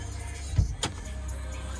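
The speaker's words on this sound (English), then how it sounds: "You can slide down your window up and down." A Mercedes Sprinter van's electric window whirs briefly inside the cab, a faint motor hum with a short thump partway through, over quiet background noise.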